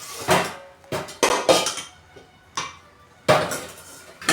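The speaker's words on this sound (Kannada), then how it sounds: "ಪಾತ್ರೆ ತೊಳೆದಿಲ್ಲ. ಇವಾಗ ಪಟ ತೊಳೆದಾಕ್ಬಿಡ್ತೀನಿ" Dishes, pots and pans being washed, with repeated clattering clinks and knocks of metal and glass coming in separate bursts at close range, with no talking.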